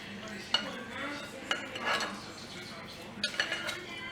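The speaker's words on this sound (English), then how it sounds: "So I'm just stirring that up, making sure they're seasoned all over all of the shrimp." Seasoned shrimp are stirred in a pan for tacos, with soft scraping and a few sharp utensil taps against the pan at moderate distance, while a voice talks quietly underneath.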